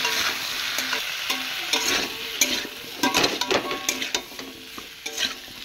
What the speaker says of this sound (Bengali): এবারে এই আলু আর ডাঁটাকে ভালো করে এই মশলার সাথে আমি কষিয়ে নেব